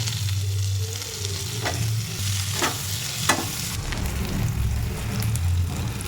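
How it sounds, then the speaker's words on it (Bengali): Onion frying in hot oil after prawns are lifted out for a Bengali prawn recipe, a steady close sizzle running throughout with a few sharper crackles and pops in the middle, no voices. "সব চিংড়িগুলো তুলে নিয়েছি তেলের মধ্যেই দিয়ে দেবো পেঁয়াজ"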